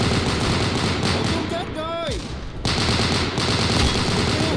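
M1919A6 machine gun hip-fired in the video game Unit 1968, loud sustained bursts of rapid automatic fire that pause briefly while a voice speaks, then resume.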